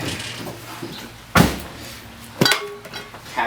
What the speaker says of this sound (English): You hear the glass inside the door.